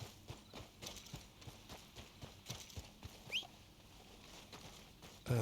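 Horse hooves clip-clop at a steady trot in a Red Dead video game, a regular rhythm of soft thuds running throughout with no voices.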